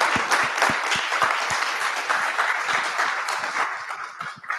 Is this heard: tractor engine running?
no